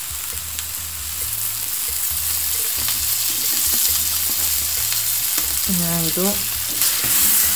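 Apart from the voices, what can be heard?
stirring filling cooking in a pan with olive oil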